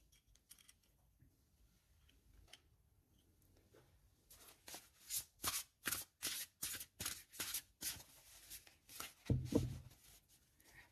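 Oracle cards are shuffled by hand in a quiet room, giving a rapid run of crisp, papery riffling slaps for several seconds, close and moderately loud, ending with a brief knock as the deck is squared.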